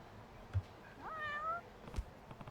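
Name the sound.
cat meowing in the video game Judgment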